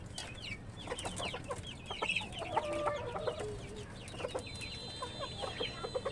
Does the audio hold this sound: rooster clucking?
yes